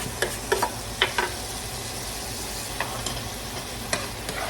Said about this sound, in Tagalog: Habang nagme-melt ang ating butter, lagyan na natin ang garlic, ginger, and ang ating siling isang labuyo